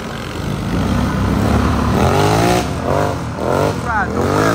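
An ATV engine revs hard and climbs in pitch while the rider pulls a wheelie up a steep hill on trails, loud and close, with surging rises under a person talking.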